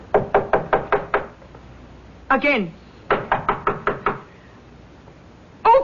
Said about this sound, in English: Leopold, knock on the door.